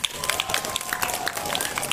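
Dense applause and crowd noise from an audience at the LJP 2024 school competition among junior high schools, with steady clapping and voices mixed through the whole stretch.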